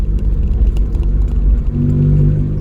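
A modified Citroën C1 drives along a road, its engine a loud, steady low drone heard from inside the car with slight rises and dips in pitch.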